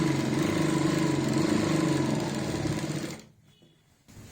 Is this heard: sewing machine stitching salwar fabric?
yes